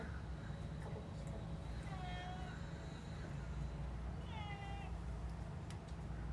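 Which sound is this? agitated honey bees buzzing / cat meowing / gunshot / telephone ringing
cat meowing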